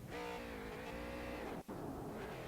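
A street stock race car, the number 57, does a burnout celebration at USA International Speedway, its engine droning with a steady tonal roar and gritty tire noise, fairly distant and faint.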